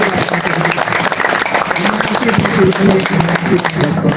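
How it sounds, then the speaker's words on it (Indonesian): An audience at an informal outdoor discussion under a shady tree bursts into loud, dense applause, with voices and chatter mixed into the clapping throughout. "Tepuk tangan dulu."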